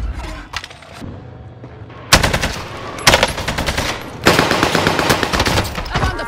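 Gunfire in Call of Duty Warzone: loud, close bursts of rapid automatic fire, heard in three separate stretches with short pauses between them, with no talk over it.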